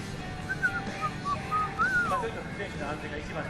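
A person whistles a short, wandering tune at a Formula Drift event in Japan. The whistling is fairly quiet and carries over a constant rumble of background trackside noise.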